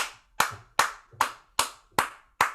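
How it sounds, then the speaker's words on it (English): Seven sharp hand claps in a slow, even rhythm, roughly one every 0.4 seconds, each with a crisp attack and a short decay, close and fairly loud with no talking. "Let the applause die down a little bit."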